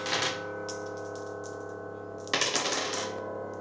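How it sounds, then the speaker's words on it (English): Two dice rolled during a Mansions of Madness: Escape From Innsmouth board game session clatter in two short bursts, one at the start and a louder one later, over a steady low hum. "so rolling 2 dice"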